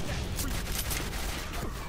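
Rapid gunfire from an enemy in the 2005 shooter Quake 4, a dense burst of shots running steadily through the whole moment, loud and close, with no one talking.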